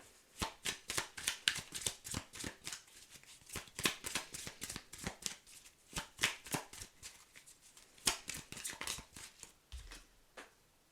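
Tarot cards shuffled by hand, a rapid series of sharp close riffling flicks and slaps in uneven bursts, with brief pauses between runs.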